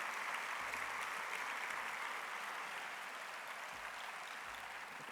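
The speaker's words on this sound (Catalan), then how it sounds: "Aplaudiu-les, aplaudiu-les." A lecture audience applauds steadily for staff of a foundation at a talk on Alzheimer's research, a dense, even wash of clapping that holds at a constant level for several seconds without talk.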